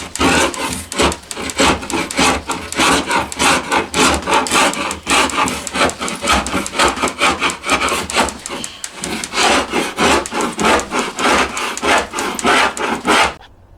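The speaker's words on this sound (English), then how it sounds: "A little bit easier with wood chisel." A wood chisel scrapes steadily across wood on a model train layout, a loud, continuous rasping stroke repeated rapidly for over thirteen seconds with no pauses or talking.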